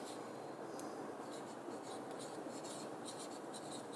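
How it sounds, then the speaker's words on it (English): A formula is written out by hand in short scratchy bursts of strokes, close and fairly quiet, with brief pauses between marks and no talking. "I'm going to write it down"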